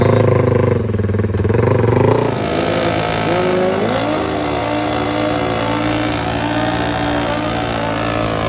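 A heavily modified Honda CRF450 motorcycle engine revs hard and loud, with a strong burst in the first two seconds before settling into a steady, high-pitched revving drone that wavers up and down.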